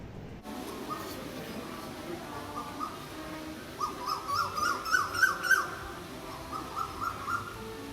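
Morning birdsong at a seaside hotel in Pattaya, Thailand: bird calls chirp in short repeated bursts, growing louder midway, over a soft outdoor background with no talking.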